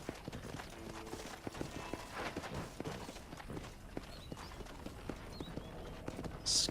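Horse hooves clip-clop at a walking pace in the game Red Dead Redemption, a string of hollow knocks close by, with a faint whinny-like sound near the end.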